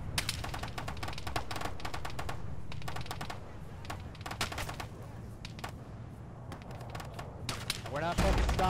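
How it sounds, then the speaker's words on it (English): Rapid bursts of gunfire ring out in the Arma video game during a ShackTac squad operation, some shots sharp and close, others scattered, with voices talking under the shooting. "Somebody was shooting us."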